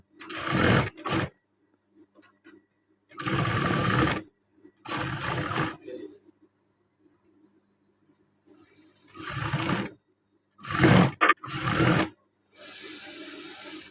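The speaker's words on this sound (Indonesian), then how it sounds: "Ini kita jahit tepinya dulu supaya mempermudah kita menggunakan tangannya." A sewing machine stitches the edge of a sleeve on a women's uniform blouse, running in several loud, close bursts of a few seconds each, with quiet pauses between runs.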